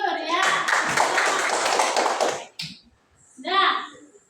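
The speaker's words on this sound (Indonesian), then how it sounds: "Ya, tepuk tangan." Children in a classroom clap their hands together in a dense, loud round of applause lasting about two and a half seconds, followed by brief voices speaking.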